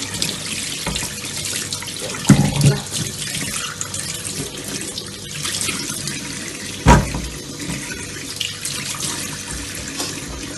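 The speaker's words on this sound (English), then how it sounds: "I'm gonna wash them." Tap water runs steadily into a kitchen sink as food is washed for Jamaican curry goat, with a couple of louder splashes and clunks as items are handled under the stream.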